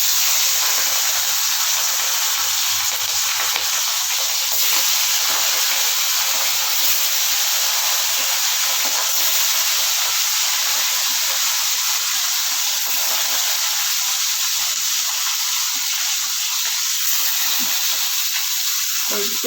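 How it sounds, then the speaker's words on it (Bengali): Fish sizzling steadily in hot, smoking oil while being lightly fried for a hilsa curry, a continuous loud hiss and crackle that stays even throughout with no one talking. "এবার আমি মাছগুলো দিয়ে হালকা ভেজে নেবো"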